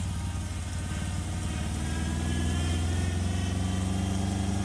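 A barn-find Triumph Spitfire engine runs at full throttle while driving, its carburetors out of tune, producing a loud, steady low drone with a fast pulsing rumble and no pauses.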